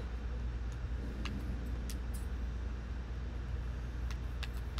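A car engine in the racing game Forza Horizon 4 hums at a steady low drone, fairly faint, with a few light clicks over the continuous engine tone.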